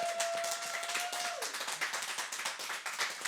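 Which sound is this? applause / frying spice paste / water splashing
applause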